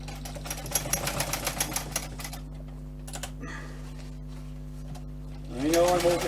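A small sewing machine rattles in rapid bursts as it stitches a multi tool pouch, fast rhythmic needle clatter at first, then pauses and a shorter whir, with someone speaking over it.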